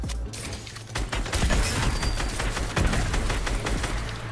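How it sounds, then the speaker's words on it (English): Rapid gunfire from computer-controlled enemies in Fortnite crackles in a continuous volley of loud, closely spaced shots with heavy booms mixed in. "NPCs shooting at them."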